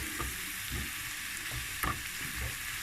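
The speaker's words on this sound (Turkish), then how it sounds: "Mantarlarımızı ekledik. Evet, öyle karıştırıyoruz." Mushrooms fry and sizzle in a pan while being stirred, a steady broadband hiss with occasional scraping clicks of a utensil, close and continuous with no talk.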